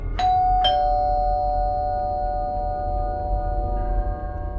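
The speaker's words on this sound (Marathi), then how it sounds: "अचानक त्यांच्या दारावरची बेल वाजली" Two sharp doorbell chimes strike close together on a house door in the middle of the night, then their tones ring on and fade slowly under a low steady background hum.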